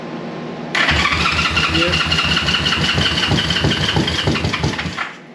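A vintage Honda CB350 motorcycle engine turns over and catches, running with a loud, steady, rough idle pulse for several seconds before cutting off; a voice briefly speaks near the start.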